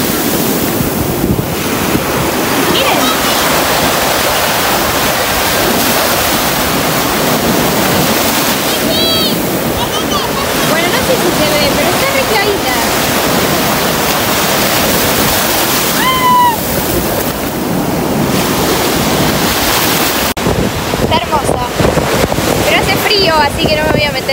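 Sea waves roll onto the beach at Pinamar, Argentina, in a constant loud wash of surf with heavy wind buffeting the microphone, and brief bird-like chirps and faint voices surface now and then.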